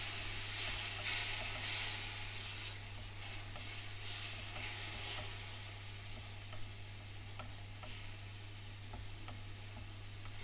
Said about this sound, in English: Add half of the remaining boiling water, mix well and allow to fry for a minute to reduce slightly.